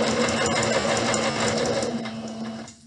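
A sewing machine runs a straight seam on a pillowcase, a close, steady mechanical whir with a rapid needle rhythm that winds down and stops at the end.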